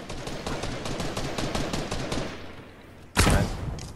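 Gunfire in Fortnite: a rapid, steady burst of loud shots for about two and a half seconds, a short lull, then one heavy, booming blast close by.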